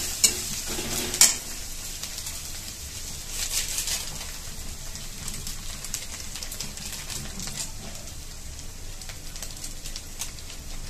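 Onion, chili, ginger-garlic paste and coriander powder sizzle in hot oil for chhole masala, a steady soft frying hiss with occasional stirring scrapes and a couple of sharp clinks near the start.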